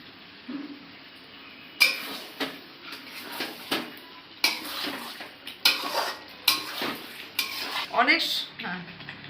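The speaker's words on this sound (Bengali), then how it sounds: "অনেক সময় বসে মটনটা কষাতে হবে।" Mutton curry stirred and fried in a karahi, with a metal spatula scraping and clanking against the pan in irregular bursts over a faint sizzle, close and fairly loud, growing busier toward the end.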